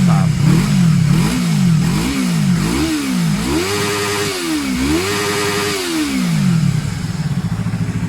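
A 2016 Yamaha MT-03 motorcycle engine revved hard and close, rising and falling in a series of throttle blips before settling, loud and alone without talk.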